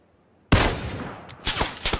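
Burst of in-game gunfire from PUBG, starting abruptly after a silent half second, then sustained crackling shots with a second flurry of rapid reports near the end, loud and close with no talking.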